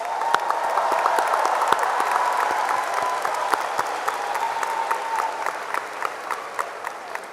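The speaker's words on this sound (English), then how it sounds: "Please join me in giving our scholarship winners a big round of applause" Sustained applause from a large crowd at a high school graduation ceremony for the scholarship winners, a steady dense wash of clapping with some voices beneath it.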